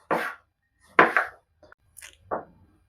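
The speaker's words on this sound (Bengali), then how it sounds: "ধনেপাতাগুলো কুচিয়ে নিচ্ছে।" A knife chops fresh coriander leaves on a board for chicken kasha, with several separate sharp, close knocks spaced irregularly and short quiet gaps between them.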